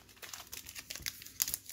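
A 2020 Topps Archives baseball card pack wrapper is torn open and crinkled, with quick, faint bursts of foil crackling and ripping up close.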